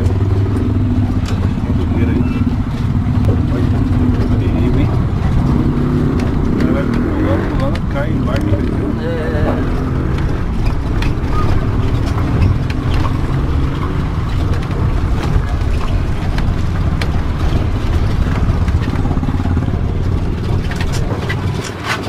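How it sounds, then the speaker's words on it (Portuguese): Engines of motorbikes rumble continuously nearby on a rocky mountain road in Venezuela, revving and passing, with people talking in Portuguese over the steady mechanical drone throughout. "E o motociclista passando para todo lado."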